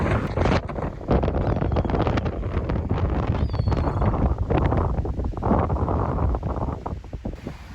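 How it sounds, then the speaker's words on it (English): Strong wind roars steadily against the microphone on Sea Bright Beach, New Jersey, a loud continuous buffeting rush with gusts, no voices. "It's so windy that the sand's being picked up by the wind."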